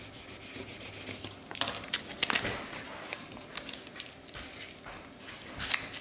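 Transfer tape being scraped firmly onto vinyl for a DIY kids coin purse, heard as close, repeated rubbing and scraping strokes in uneven bursts, with no talk.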